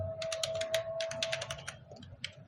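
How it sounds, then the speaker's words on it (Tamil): Rapid keystrokes on a computer keyboard while entering Python code, a steady run of crisp, close clicks with brief uneven pauses, no talking. "ஜஸ்ட் நான் நேம் டைப் பண்ணி அதுக்கு ஒரு வேல்யூ அசைன் பண்ணுறேன், எபினேசர்னு"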